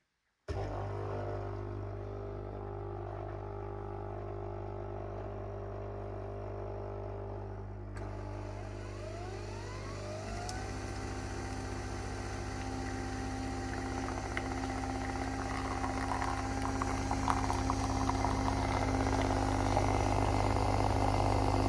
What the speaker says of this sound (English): you literally just press it once and it will make your coffee